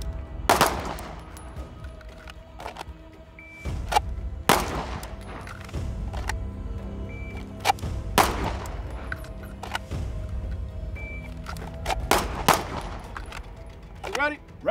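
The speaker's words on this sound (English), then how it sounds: "All right, that's five shots with our dominant hand." Staccato pistol fired one-handed with the dominant hand on an outdoor range, five sharp, loud reports spaced a few seconds apart, each ringing out with echo between shots.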